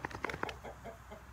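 Hens in a backyard coop, with a dog watching them, give a quick burst of soft, close clucks, several short notes in the first half second trailing into quieter murmurs.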